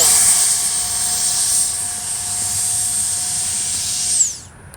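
FMS 70mm Viper RC jet with a steady high-pitched electric ducted-fan whine that holds, then winds down and fades as the model lands and brakes, close and loud.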